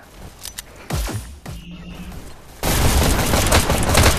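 Loud rocket fire and explosions in the VR shooter game Hyper Dash during capture the flag, with several booming launches followed by a dense, sustained roar of blasts close by.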